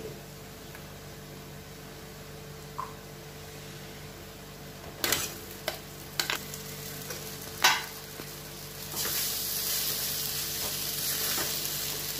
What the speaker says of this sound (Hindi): अपने आलू को अच्छे से मिक्स कर लेते हैं